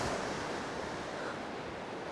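Strong wind and breaking surf roar steadily on an open beach at a fishing festival, a dense, continuous wash of noise with wind buffeting the microphone and no voices.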